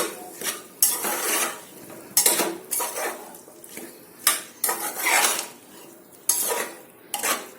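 A spoon stirs vegetables in a pot for masale bhat, giving repeated loud scraping and clanking strokes in an uneven rhythm, close up, with a faint sizzle between strokes and no voices.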